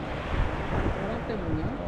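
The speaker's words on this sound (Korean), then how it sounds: "바람이 부니까" Wind blows by Lake Annecy, making a steady, close rush and rumble of buffeting against the microphone.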